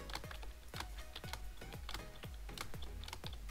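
Computer keyboard keys tapped in quick, uneven bursts during platform gaming, with the spacebar pressed and held, crisp clicks close and clear against a quiet background.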